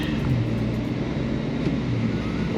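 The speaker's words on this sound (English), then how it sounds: "that 6-cylinder sounds really good though" A 2025 Audi RS5 with a 2.9-liter V6 engine runs on the road, a continuous low rumble heard from inside the cabin with a slight swell, with no talking.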